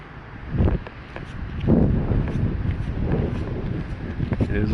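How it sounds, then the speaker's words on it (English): Wind at a beach buffets the microphone in a continuous low rumble with gusty swells, close and fairly strong, mixed with footsteps and light rustling as someone walks. "already fairly windy"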